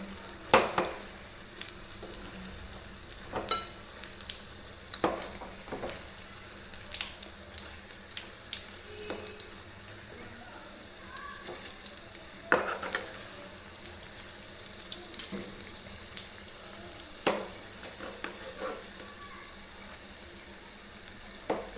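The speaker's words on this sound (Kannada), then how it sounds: "ಈ ಥರ ಕೆಂಪಗಾದ್ಮೇಲೆ ಬಜ್ಜಿಯನ್ನು ಒಂದೊಂದಾಗಿ ತಿರುಗಿಸ್ತಾ ಹೋಗಬೇಕು" Bajji fritters fry in hot oil while they are turned one at a time, a bubbling sizzle broken by repeated sharp clicks and taps of the turning utensil, no talking.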